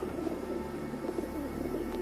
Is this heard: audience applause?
no